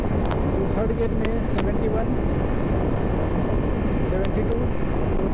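Steady engine drone and rushing wind from a 2022 Hero Passion Xtec motorcycle riding in third gear, loud and continuous, while someone talks over it.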